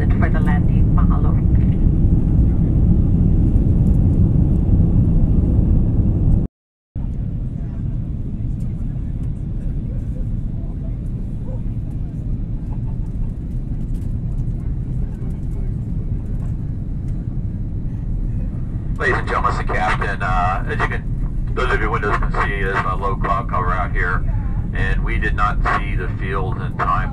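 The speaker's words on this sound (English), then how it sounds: "we will be making our final approach soon into Honolulu" Hawaiian Airlines jet cabin on final approach into Honolulu, a steady broad roar of engines and airflow with a brief cutout, later joined by cabin announcements and a higher flutter near the end.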